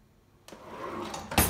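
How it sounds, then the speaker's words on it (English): A kitchen drawer in a rental apartment slides open, a soft rolling rumble building to a sharp close-range clack at the end, alone without talk. "some drawers"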